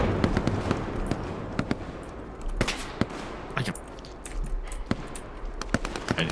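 Gunfire in a multiplayer shooter video game, a busy battlefield: repeated sharp shots and bursts scattered across the clip, some near and loud, others farther off, over a steady noisy background with no talk.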